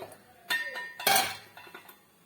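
Someone handles a blender jar and metal utensils while making buttermilk with amla, mint and ginger in a home kitchen, giving a few close clinks and knocks in short separate bursts with quiet gaps between.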